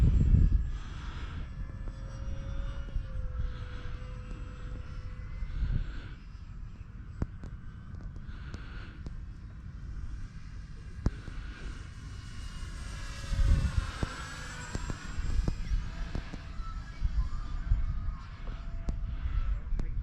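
An FMS P-51D Mustang Dago Red radio-controlled sport plane, 1100 mm span on a 4S battery, flies with a droning, whining propeller and motor that rise and fall as it makes passes overhead, with wind buffeting near the microphone.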